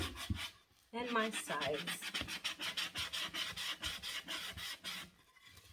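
Rhythmic back-and-forth rasping of hand sanding on wood, a steady series of close, scratchy strokes after a brief spoken phrase at the start.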